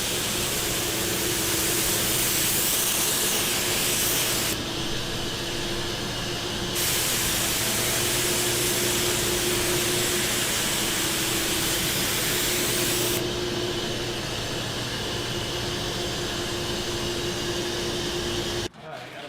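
Loud sprayer hissing in long bursts that start and stop, over a steady hum of shop ventilation.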